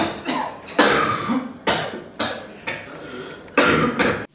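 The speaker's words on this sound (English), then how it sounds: "I've got this cough that just won't go away" A series of about six harsh, forceful coughs in irregular succession, close up and loud, each burst fading quickly.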